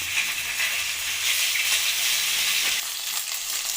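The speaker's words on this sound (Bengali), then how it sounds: "এবার আমি মাছগুলো ভেজে নেব" Parshe fish frying in hot mustard oil, a steady close sizzle with a broad crackling hiss that runs throughout and dips slightly near the end, with no voices.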